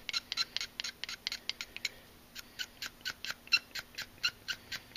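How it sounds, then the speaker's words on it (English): A hobby blade scrapes a Gunpla plastic part held at a steep angle, making a close series of short, sharp scraping strokes in a quick, fairly regular rhythm over a quiet background. "We're going to scrape it."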